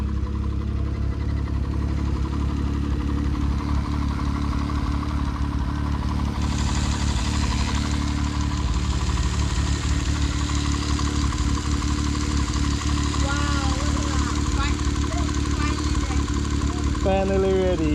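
A Toyota 1JZ engine idles steadily with a constant low rumble and rattle, close and loud throughout. Voices can be heard over it.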